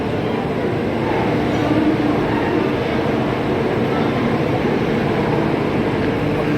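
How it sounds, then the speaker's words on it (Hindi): A Vande Bharat Express train pulls out of a station on the Howrah to Patna route, a steady close rumble of rolling carriages that stays constant throughout. "ट्रेन चालू हो गई है"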